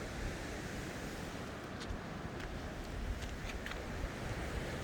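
Steady wind gusting at a seaside breakwater on an island beach, a constant broadband roar with a faint surf wash underneath and no voices.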